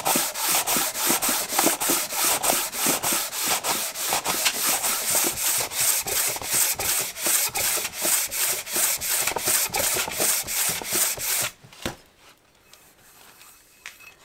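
A seized WaveRunner engine part is sanded flat by hand, close and loud, in about thirty steady back-and-forth strokes. The strokes stop near the end and leave near silence.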